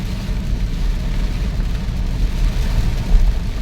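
Heavy typhoon rain during Typhoon Enteng pours steadily and loudly, making a dense, continuous roar with deep rumbling low noise throughout.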